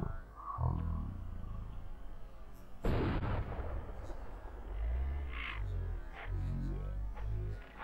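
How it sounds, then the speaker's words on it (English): A single loud rifle shot from a DMR in the survival video game DayZ cracks out near the middle, with a trailing echo over background game noise and low rumbling ambience. "Okay guys, I shot him 2 times."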